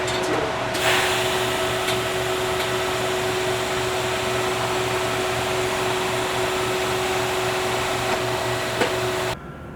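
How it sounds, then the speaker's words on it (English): Welding a stainless steel water line: a steady electric buzz and hiss that holds for about nine seconds, then cuts off abruptly. No one speaks. "so that was the last weld of the day"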